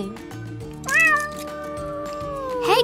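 A cat meows loudly twice in a kitchen setting, a drawn-out call near the middle and a shorter one at the end, over a low background hum.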